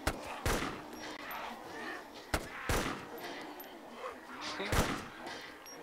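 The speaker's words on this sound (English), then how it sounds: "I'm just going to fire my Enfield" Lee Enfield rifle shots in the video game DayZ: three sharp, loud cracks spaced a couple of seconds apart, each with a short echoing tail, while people talk faintly between them.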